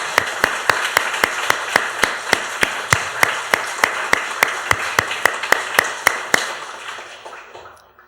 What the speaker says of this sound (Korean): 서로를 위해서 격려와 박수, 축복의 박수를 열렬하게 치겠습니다.